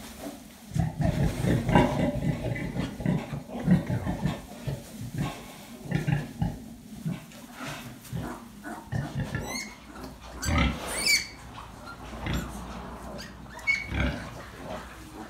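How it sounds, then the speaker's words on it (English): A farrowing sow and her newborn piglets in a pen, with a run of grunts, snorts and squeals, some piglet squeaks rising high, close and continuous. "So piglet number six has just come out."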